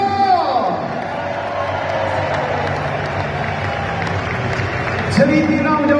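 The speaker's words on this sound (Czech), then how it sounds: "obrovský potlesk taky patří pro našeho golmana" Stadium crowd applauding and cheering after a Czech Republic versus Poland football match, a steady loud wash of clapping and shouts with a swell near the end, while a public-address voice speaks over it.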